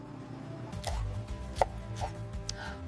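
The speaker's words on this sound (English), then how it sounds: "Fresh cilantro, finely chopped." Knife chopping fresh cilantro finely on a board for street tacos, a few distinct crisp taps spaced out over steady low kitchen background rumble.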